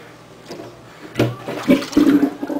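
Rinse water drains out of a basin after rinsing hair, a gurgling, rushing flow that swells and grows louder over a couple of seconds, with no one speaking.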